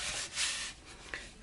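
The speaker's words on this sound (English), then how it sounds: "You want to flip it over and just rub the heck out of it." Fabric is rubbed hard onto a junk journal cover: steady, close, breathy scrubbing strokes that swell in the middle and end with a brief sharper scuff, with no talking.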